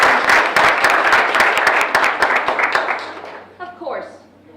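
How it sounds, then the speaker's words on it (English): Audience applause at a school Do The Right Thing ceremony, a dense burst of many hands clapping with sharp individual claps standing out, fading toward the end as a voice begins speaking. "let's give her another round of applause"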